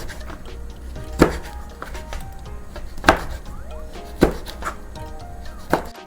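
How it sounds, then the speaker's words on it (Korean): A knife slices a red chili pepper on a cutting board, giving a few sharp, evenly spaced chopping knocks about every one and a half seconds over faint background noise. "홍고추 1개 반 갈라가지고 넣어볼게요. 거꾸로 잡았는데 그냥 썰자."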